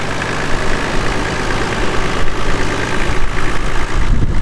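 A Toyota HZJ77 with a 4.2 liter inline six diesel idles close by, giving a loud, steady low rumble with a slight knocking clatter, and no voices over it.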